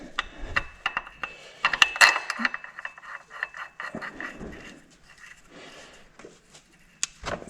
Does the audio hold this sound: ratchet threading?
yes